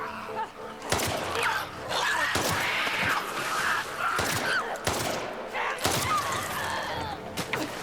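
Gunfire in the video game The Last of Us Part 2, several sharp, loud shots spaced a second or two apart, with game sounds and a voice in between.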